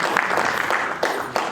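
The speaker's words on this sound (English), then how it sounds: "A round of applause, please." Audience at a community congress claps briefly for a speaker called to the stage, a short burst of fairly close applause with a few louder individual claps.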